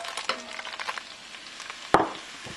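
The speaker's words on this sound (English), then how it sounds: "Gonna let it start heating up, and then I'm going to throw in the onions." Onions tossed into hot olive oil in a pan for a traditional red pasta gravy, a soft background hiss broken by one sudden sharp hit as they land, then a brighter sizzle that fades slightly.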